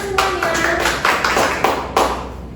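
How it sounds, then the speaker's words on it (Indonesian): An elementary science class applauds together, a short burst of several loud claps and taps over about two and a half seconds. "Beri tepuk tangan untuk semuanya."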